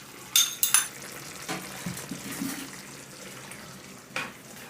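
Kaffir lime leaves are stirred in a frying pan with a few clattering scrapes and knocks of a utensil over a low, steady sizzle, close by with no one talking.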